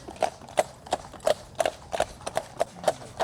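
Horses walking on the way to Neuwerk island in Germany, hooves clip-clopping close by in a steady, slightly uneven rhythm of distinct knocks, with no voices.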